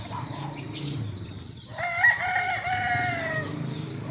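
An 11-month-old backyard rooster crows once, a loud drawn-out call near the middle, with soft clucking and farmyard background around it.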